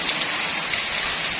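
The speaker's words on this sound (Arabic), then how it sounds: "لا حصلنا في هذا الشتا، حصلنا الصراحه" Heavy winter rain pours on a mountain, a dense, steady hiss of drops with no pauses and no voices.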